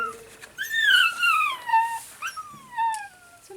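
A dog whimpers close by, giving several high, drawn-out whines that slide downward and rise and fall in short bursts, with no talking.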